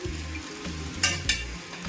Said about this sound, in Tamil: இப்போ நம்ம பொங்கலுக்கு தாளிச்சிக்கலாம்